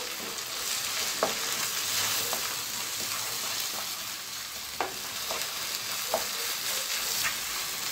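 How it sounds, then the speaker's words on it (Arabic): Onions fry and sizzle steadily in a pan for beef shawarma, with a constant hiss and occasional clicks of a utensil stirring them, close and continuous with no talking. "بنزل بقلب كويس لحد ما البصل يتدبل شوية"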